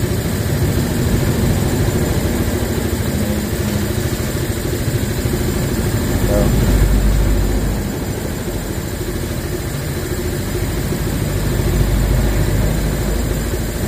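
A Kawasaki Barako 3 fuel-injected motorcycle runs steadily, its exhaust elbow not yet fitted, giving a loud, continuous low engine drone close by with a slight swell midway and no talk.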